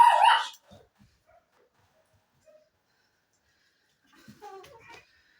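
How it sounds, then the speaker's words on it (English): A neighbour's dog lets out a brief, loud squeal at the start, followed by near silence and then a few fainter yips and whimpers further off. "That was my next door neighbour's dog squealing"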